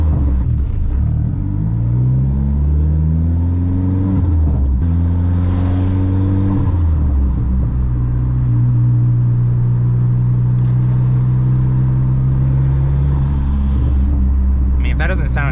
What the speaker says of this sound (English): Also, new HKS blow-off valve